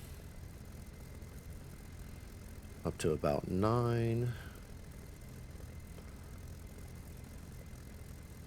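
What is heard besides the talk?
Bf 109 K4 engine warming up, from the video game DCS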